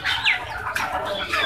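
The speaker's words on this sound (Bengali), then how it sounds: "আমি দেশি মুরগি লাগাছি" Desi chickens at a village poultry market give short squawks and clucks with some wing flapping, close and busy against a noisy market background.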